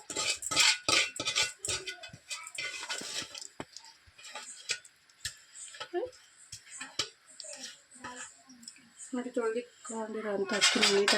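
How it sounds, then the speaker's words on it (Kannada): Rice being stirred in a pot for mushroom biryani, with repeated scraping and clinking of a utensil against the metal pot, irregular and close, under intermittent talk. "ನೀಟಾಗಿ ಒಂದು ಮಿಕ್ಸ್ ಕೊಡ್ತೀನಿ"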